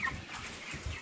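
Ross 308 broiler chickens about thirty days old cluck softly and continuously in a poultry shed, faint and close together with no talk.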